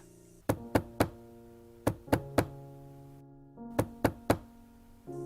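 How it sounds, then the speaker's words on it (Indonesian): Knocking on a door at the back of a house, in a tense horror narration: three sharp raps, a pause, a pair and another single knock, then three more, each ringing with a hollow tonal resonance against a quiet backdrop. "suara ketukan itu memecah belah kenyamanannya"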